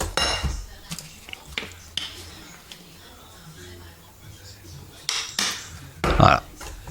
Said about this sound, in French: On remue tout ça.